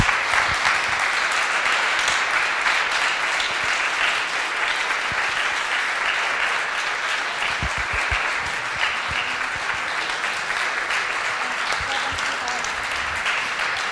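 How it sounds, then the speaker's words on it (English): An audience at an advanced materials competition demo day applauds steadily for the whole stretch, a dense, even wash of clapping with no voices standing out. "big hand of applause."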